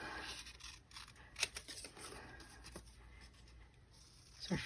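Scissors snipping paper to cut out small trapezoid shapes, quiet close crisp cuts with a few sharper snips and soft paper rustle.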